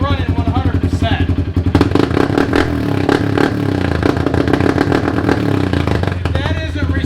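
A Kawasaki Brute Force ATV fitted with a Dyno Jet kit revs loudly up close, with sharp throttle blips at first and then a sustained rough roar, along with some clattering.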